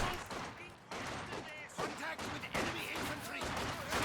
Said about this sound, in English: machine gun setting up now